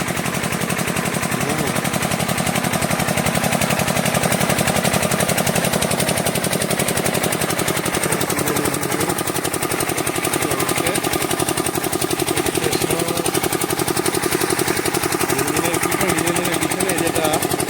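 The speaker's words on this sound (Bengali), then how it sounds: "ডিজেল ইঞ্জিনের আওয়াজটা দেখুন, ঢাক ঢাক ঢাক ঢাক ঢাক ঢাক।" A diesel engine drives a water pump lifting water for irrigating a potato field, a loud, steady rapid thudding that runs without pause throughout.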